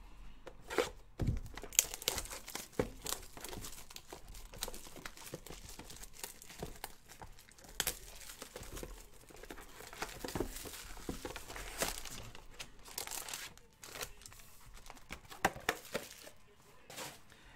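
Cardboard and foil packs of 2018-19 Panini Revolution basketball cards being torn open and handled, with repeated crinkling, ripping and rustling bursts that come and go at close range, no talk.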